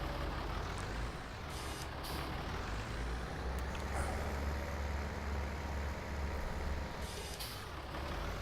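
A farm vehicle in Farming Simulator 19 backs up with a steady engine drone and repeated beeping reversing alarm tones, with an air brake hiss near the start.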